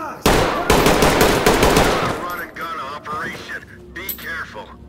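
Rapid automatic gunfire bursts loudly in the tactical shooter game Ready or Not, followed by sparser shots and clatter, while players talk over it.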